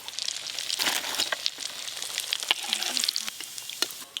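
Egg devil chops frying in hot oil in a home kitchen, a steady close sizzle with bubbling crackle and a few sharp pops and clinks, no voices.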